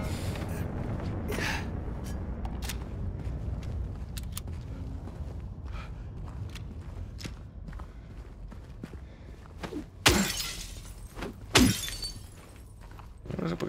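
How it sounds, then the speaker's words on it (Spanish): Glass windows shatter in the Silent Hill 2 Remake video game: two sharp, loud crashes come near the end, over a low ambient rumble with scattered footstep-like thuds earlier. "No sé por qué se rompieron estos cristales."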